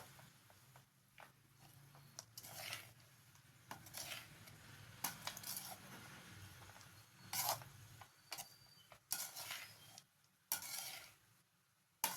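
Lemon rice is turned over in a pan with faint, intermittent scraping and clinking strokes of a spoon against the metal and a soft low sizzle underneath, fairly quiet and without any talk.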